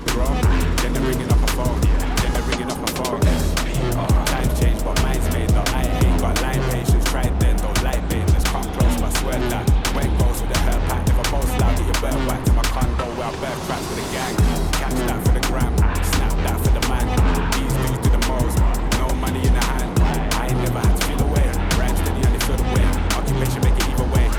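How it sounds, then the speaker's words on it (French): Go-karts race and overtake at a Grand Prix karting event, engines buzzing loud and continuous with rapid revving pulses and rattling, a short dip midway, and a voice speaking at points over the noise. "Comme prévu, je dépasse Steven et Tom fait la même sur Anto."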